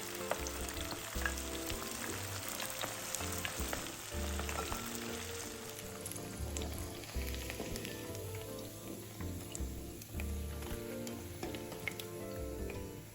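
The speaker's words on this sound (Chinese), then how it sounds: "重複油炸至全部完成。" A batch of winter melon meatballs deep-fries in a pan of oil, bubbling and sizzling continuously up close for the whole stretch, alongside light background music, with no voices.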